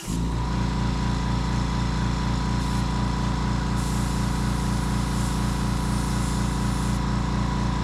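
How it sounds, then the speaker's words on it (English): An air compressor runs loud and close with a steady, droning motor hum that holds constant throughout, alone in a painting workshop. "sorry for the compressor, but it'll shut off in a minute"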